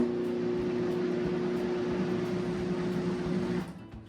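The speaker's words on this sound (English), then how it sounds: "I guess I can do a quick blend really quick" A kitchen blender whirs a fruit smoothie with lime juice, a steady mid-pitched motor drone with a faint whine running for several seconds before cutting off abruptly near the end.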